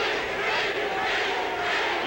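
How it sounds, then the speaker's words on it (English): A boxing crowd in Sacramento roars during a Sugar Ray Leonard versus Pete Ranzany fight, a broad continuous wash of distant cheering that swells and holds throughout. "You can hear that crowd from Sacramento roaring in the background."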